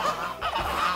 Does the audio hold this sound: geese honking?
yes